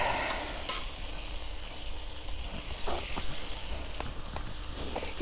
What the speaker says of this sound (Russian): Теперь, друзья, отправляем сюда картофан. Сейчас, наверное, будет брызгать.